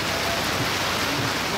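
Steady rain falls over an outdoor BMX jam, a dense even hiss of drops on the ground and surfaces, constant and moderately loud with no voices breaking through.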